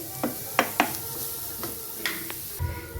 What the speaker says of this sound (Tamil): பச்சை வாசனை போகும் வரைக்கும் வதக்குவோம்